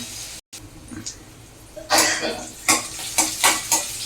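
Chopped ingredients for a Tamil home-style lunch dish sauté in a pan, a sizzling hiss that swells after a quiet start, broken by scraping stirs of a utensil against the pan.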